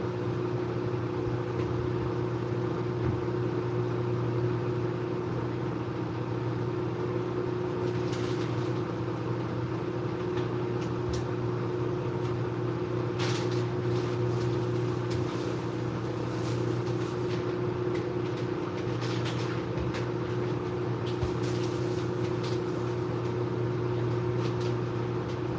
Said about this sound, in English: I know the microwave's loud.